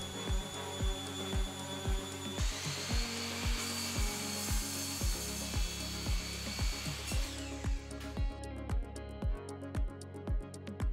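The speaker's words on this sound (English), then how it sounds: "my dad had an old, rusty, slightly dangerous to use table saw that allowed me to cut the pieces to size" Old, rusty table saw cutting pine trim pieces to size: a loud, continuous whining blade under a rapid, regular thumping pulse, with the pitch shifting partway through and a thinner hiss near the end.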